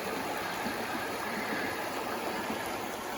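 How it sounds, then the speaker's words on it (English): A river rushing steadily past a campsite across the road, a constant broadband wash of flowing water, even and unbroken, heard close and with no voices. "Watching the river go by."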